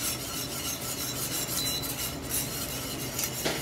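A whisk scraping and rubbing steadily against a pan while stirring roux gravy with beef broth, a continuous rasping texture at moderate level with no talking.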